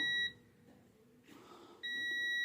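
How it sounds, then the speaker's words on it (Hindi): Continuity beeper of a multimeter with its probes across the terminals of a discharged microwave oven capacitor. One steady tone cuts off, a pause with a soft rustle follows, then the tone sounds again, clear and near. "तो यहाँ पे आपको बीप सुनाई दे रही है।"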